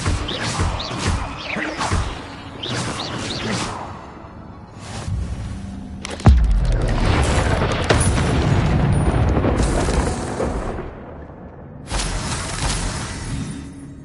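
In Hogwarts Legacy on PS5, an Incendio fire spell goes off with a sudden heavy boom, followed by several seconds of roaring, crackling flame and rumble, set among other spell bursts and whooshes.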